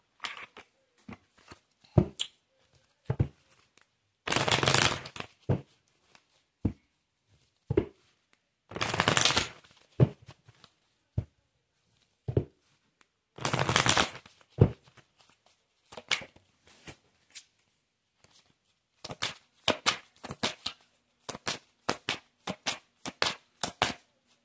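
A deck of love oracle cards is shuffled in bursts, with longer riffling runs between many sharp single taps and slaps of cards, close and clear with no talking.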